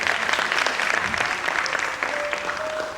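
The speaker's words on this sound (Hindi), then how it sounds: "एक बार जोरदार ताली इन कलाकारों के लिए।" A theatre audience gives the actors loud, sustained applause, a dense continuous patter of many hands clapping that fills the hall for the full few seconds.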